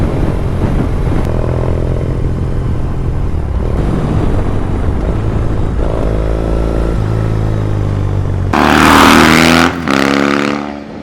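On a road test, a motorcycle fitted with a Beeline Moto II navigation unit rumbles loudly and steadily, with shifting engine tones and a rising rev near the end; no voices.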